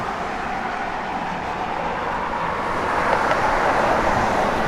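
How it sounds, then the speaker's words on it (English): A 1965 Ford Mustang with an X-pipe Magnaflow dual exhaust idles in a low, continuous rumble with a broad roar that rises slightly toward the end, heard up close with no speech. "X-pipe Magnaflow dual exhaust system sounds great."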